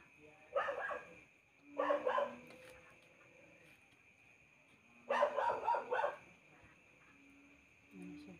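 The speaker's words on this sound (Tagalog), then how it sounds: "Sobrang Dami ingay ng aso." Dogs bark in two bursts of rapid yaps, loud and fairly close, with a quieter bark in between and a little more barking at the end; no one speaks.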